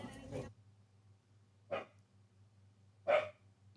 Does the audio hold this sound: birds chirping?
no